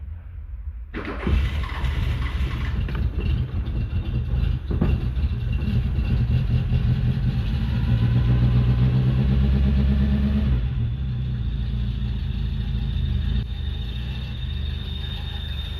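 A Renault Le Car engine running on fresh spark plugs, holding a steady, loud mechanical drone with a slight rise in revs midway, close by and with no talking.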